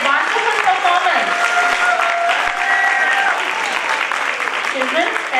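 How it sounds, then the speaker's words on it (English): An audience at a children's annual day performance gives dense, sustained applause. Voices talk over the clapping throughout. "Parents, a big round of applause to these children for their wonderful performance."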